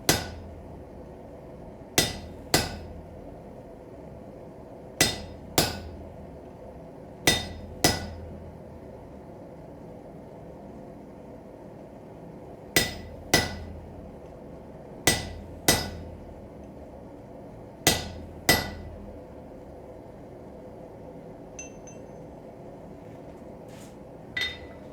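Hammer striking a chisel to split a workpiece held between the knees, sharp metallic blows coming in spaced pairs, fairly close, with quiet gaps between them.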